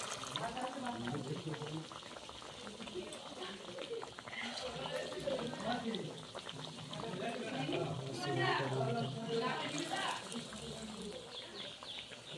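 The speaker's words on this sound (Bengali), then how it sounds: "এখন মুড়ি খাবার জন্য হচ্ছে চপ ভেজে নেওয়া হচ্ছে।" Chops deep-frying in hot oil for a puffed-rice breakfast during a puja morning, a continuous crackling sizzle under voices chatting throughout, with birds or other household noises faintly behind.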